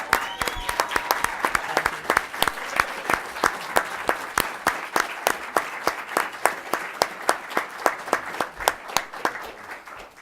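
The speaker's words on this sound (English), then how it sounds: "let's give her a thunderous round of applause" Applause for a retiring staff member at a county board business meeting, with a standing audience clapping steadily and loudly from start to finish in a dense, even wash of hand claps and some faint voices underneath.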